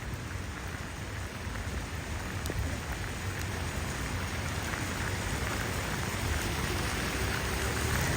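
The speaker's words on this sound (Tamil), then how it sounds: "நல்ல மழை பெய்யுதா" Heavy rain falls steadily in Jaffna during a flooding downpour, a dense continuous roar of drops with no voices.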